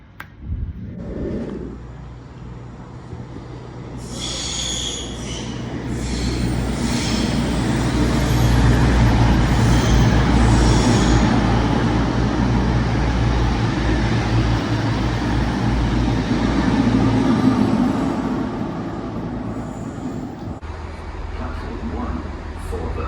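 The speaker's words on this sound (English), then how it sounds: "This train has 9 coaches." A nine-coach passenger train rumbles steadily with a low engine drone, rising to a loud sustained roar in the middle and easing toward the end.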